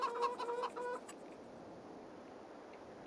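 A rooster crows in the Farming Simulator 22 game, a short, fairly clear call with a few stepped tones lasting about a second, followed by quiet ambient farm background.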